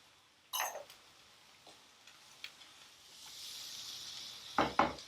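Chopped banana flower for thoran dropping into a hot pan, with a sudden sizzle, soft stirring clicks and a rising fry, then another sharp burst of sizzling near the end.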